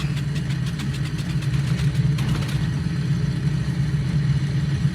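Ford Tri-Motor engine in a flight simulator game running after start, a steady low rumbling drone with a throbbing mid-range pulse, loud and continuous with a faint clicking layer.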